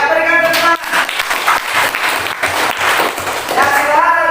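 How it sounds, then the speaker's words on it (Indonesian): Applause from students in a classroom lesson, a burst of clapping rising after speech and fading as talking resumes. "Ya, berikan tepuk tangan"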